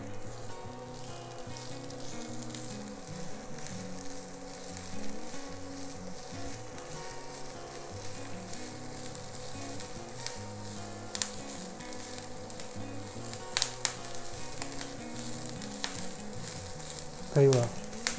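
About two and a half capsicums sautéing in a pan over raised heat, a steady close sizzle with occasional sharp stirring scrapes, over a faint droning hum and brief bits of background voice.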